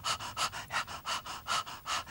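Rapid, rhythmic panting breaths during an upper-chest breathing exercise, about nine quick even in-and-out puffs, close and clear, imitating a dog panting, with no talking over them.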